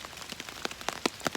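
Rain patters onto a hiking trail in cold weather, soft steady hiss broken by irregular sharper drop impacts, fairly close and alone with no voices.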